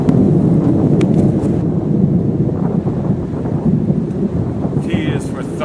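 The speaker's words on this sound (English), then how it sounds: "T is for thunder" Loud thunder rumbling low and continuous, heavy and close, with a brief higher squeal near the end.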